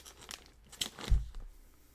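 A sealed snack package is torn open by hand, giving a few quiet crinkles and rips of plastic wrapper ending in one firmer tear, close and alone.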